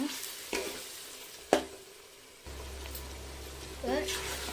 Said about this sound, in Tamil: இப்போ நம்ம ஒரு கப் தயிர் விட்டுலாம் போட்டுட்டு நல்லா வதக்கிச்சோங்க